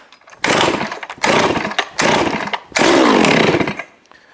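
A Neotec 892 Stihl-clone chainsaw on choke, pulled four times in quick succession, each pull giving a loud, rough burst of engine sputter that nearly catches before dying, the last running about a second longer, up close.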